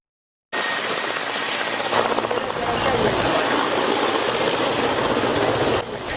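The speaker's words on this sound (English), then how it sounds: "this plane carrying the casket of late Labour Minister, retired Colonel Charles Okello landed at Anyeke Primary School playground" A plane carrying a casket lands on the Anyeke Primary School playground, its loud, steady engine and propeller roar filling the clip from start to finish with no pause, heard close by.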